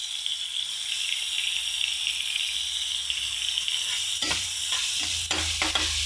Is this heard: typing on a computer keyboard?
no